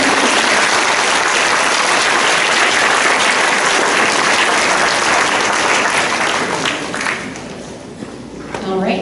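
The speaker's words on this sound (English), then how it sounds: "let's give these students a round of applause" School concert audience gives a dense, sustained round of applause for the students, loud and even for several seconds before tapering off into scattered claps.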